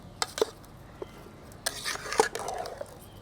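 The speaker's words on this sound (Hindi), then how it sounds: "अब एक बार इन सारी चीज़ों को हम अच्छी तरीके से मिक्स कर लेंगे" Beef haleem ingredients being mixed with oil in a pot, a spoon scraping and clinking against the metal in scattered knocks and rubs, fairly quiet and close with no talking.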